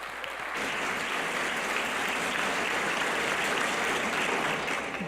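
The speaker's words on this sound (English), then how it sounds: "I think that deserves a round of applause." Audience applause at a San Mateo County economic development event, a dense, steady burst of clapping that starts abruptly after a brief quiet moment and holds evenly for about four and a half seconds, full and enveloping.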